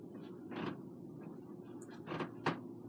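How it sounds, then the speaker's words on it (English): A few short creaks from a squeaking floor, faint and close, spaced apart in a quiet room with no talking. "I'm tired of this squeaking floor."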